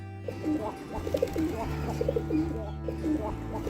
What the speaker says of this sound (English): Pigeon. This is pigeon.